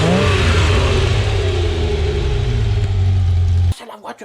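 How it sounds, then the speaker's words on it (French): A 1985 Ferrari V12 engine revs loudly and steadily at close range, a sustained rich roar that cuts off abruptly near the end, followed by a brief quieter tail. "Le beau bruit du beau moteur hein."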